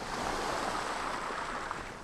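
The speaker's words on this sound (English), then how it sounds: "it sounds like waves crashing over there. I'm sure you guys can hear it." Waves crash in the survival video game The Forest, a soft, continuous rushing wash of surf heard at a distance, steady and fairly faint with no talk over it.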